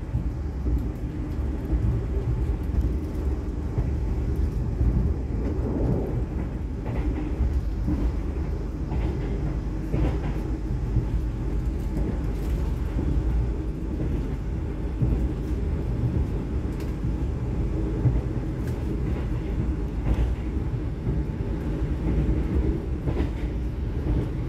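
A train rumbles continuously along the rails at night, a steady deep roar with faint rhythmic clatter throughout, heard from inside an executive-class carriage.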